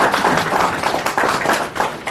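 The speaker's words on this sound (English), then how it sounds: "round of applause once again" An audience at an MOU signing ceremony for an inmate innovation initiative gives brief applause, a dense wash of many hands clapping at moderate volume.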